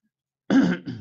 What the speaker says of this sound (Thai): ค่อยๆกระแอม